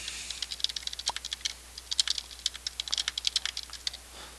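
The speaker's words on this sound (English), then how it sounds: "let me just type out something" Fingers typing on a computer keyboard in a quick, irregular run of close, light clicking keystrokes, with no talk.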